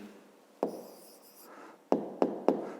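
Pen writing an answer in a fifth-grade maths exercise, soft close scratching strokes on paper with a few sharp taps from the pen, alone in a quiet room.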